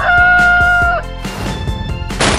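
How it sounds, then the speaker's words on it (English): A chicken clucks briefly and loudly at close range, a short burst of squawking calls with a tonal, crow-like start. "Chicken."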